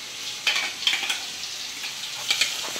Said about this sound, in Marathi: त्या तेलामध्ये अशी छान फ्राय करून घ्यायची आपण जी ठेचा टाकलेला आहे तो